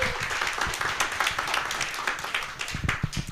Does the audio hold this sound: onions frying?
no